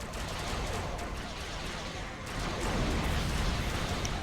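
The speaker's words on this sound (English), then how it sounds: "The Doomsday Machine is about to open fire." Heavy weapons fire from the Doomsday Machine in the space combat game Star Trek Online, a dense, continuous roar of blasts and rumble that swells louder midway through.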